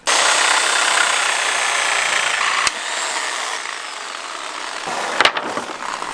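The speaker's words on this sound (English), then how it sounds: "we have to cut the actual board off of the middle 2x4 with the Sawzall" A Sawzall cuts a pallet board free from the middle 2x4 with a steady, loud buzzing rasp. It runs continuously and eases slightly partway through, with a few knocks near the end.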